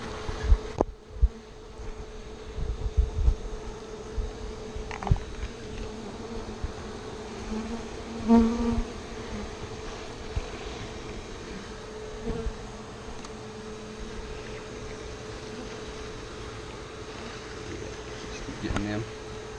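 Bees buzz in a steady, soft drone during a large beehive cut-out, with scattered knocks and handling noises and occasional louder thumps throughout.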